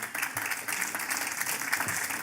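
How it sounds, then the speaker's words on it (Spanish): A church congregation at a gospel service claps steadily together, a continuous even patter of many hands that sounds fairly distant and soft. "Den un aplauso fuerte a Dios"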